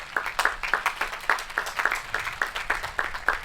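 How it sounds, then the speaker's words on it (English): A crowd at a high school graduation ceremony applauding steadily, dense overlapping claps sustained throughout without a break. "Can we give them a huge round of applause for their hard work in their events?"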